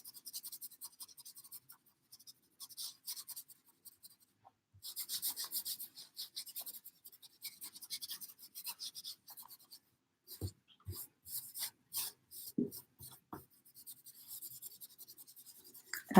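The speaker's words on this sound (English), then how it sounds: "I'm just going to actually rub the whole board" Wax paste is rubbed onto a wooden board in soft, intermittent strokes, quiet and close, with faint scratchy swipes and occasional light taps.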